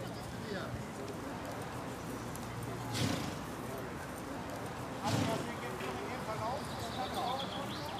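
Hooves of a sweating, panicked racehorse before the start of a race, with a short whinny, over steady background noise and voices talking.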